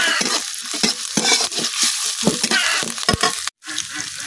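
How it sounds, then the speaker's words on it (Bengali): Onion, ginger and garlic paste frying in a pan for a prawn and bottle gourd dish, with steady loud sizzling broken by repeated stirring scrapes and a brief pause near the end. "পেঁয়াজ আদা রসুন আমি কিছুক্ষণ বাজিয়ে লইছি"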